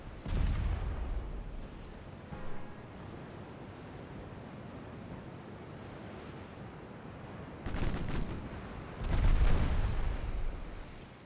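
Warship guns firing in the naval strategy game Ultimate Admiral Dreadnoughts, deep booming blasts with rumbling tails over a low sea-like wash, a heavy report at the start and two more near the end.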